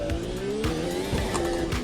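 In a sim racing game, a race car on a track in Norway revs loud and close while its tyres squeal in a long, wavering screech, with no voices over it.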